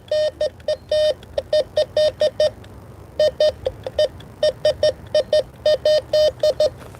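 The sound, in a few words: metal detector high tone signal, Bounty Hunter Tracker IV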